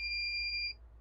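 A continuity tester gives a single steady electronic beep while its probes check a pin of a NAND gate IC, a clear close tone lasting under a second over low hum before cutting off.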